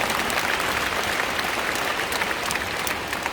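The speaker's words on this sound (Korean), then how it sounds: "함께 박수해 주시면 감사합니다" An audience in the Anyang indoor gymnasium applauds at a Christian prayer meeting. Dense, steady clapping fills the large hall for a little over three seconds, loud and even, with no voices rising above it.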